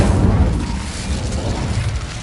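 A fire spell cast in the video game Hogwarts Legacy, set in a cave maze, bursts out as a loud, continuous whooshing roar with a heavy low rumble sustained for about two seconds.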